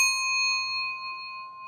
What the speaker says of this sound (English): Every time I hear the bell, I try to breathe in again